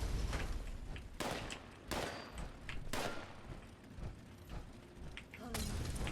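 Sharp gunshots crack out at irregular intervals during a Fallout 76 firefight, several loud bursts over a few seconds, mixed with mechanical clatter and thuds.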